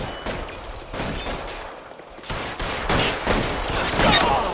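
Gunfire in the video game LA Noire Remastered, a series of sharp shots in quick volleys, loud and close, with faint background game noise between bursts.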